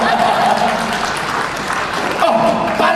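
A congregation at an Indonesian church sermon claps hands in a sustained burst, with a voice and faint tones running underneath the dense clapping.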